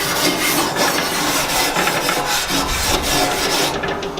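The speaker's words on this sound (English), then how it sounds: "all you simply do is just give it a good brush" A wire brush scrubs the hot cooking grate of a Weber barbecue grill, giving a steady, loud rasping scrape that runs throughout without pause.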